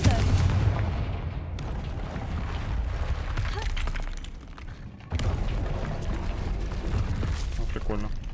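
In Hogwarts Legacy, a Confringo blasting spell explodes with a heavy booming blast followed by a rumbling, crackling tail, and a second strong burst hits midway, loud and dense throughout.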